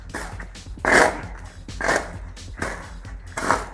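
A dog shut in a bathroom barks repeatedly, about five loud, close barks in an uneven rhythm with echoey thumps between them.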